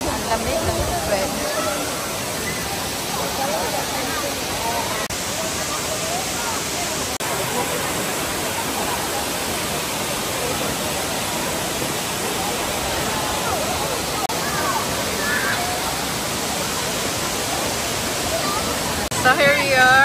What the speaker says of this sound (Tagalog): So, dito na kami sa Tinago Falls.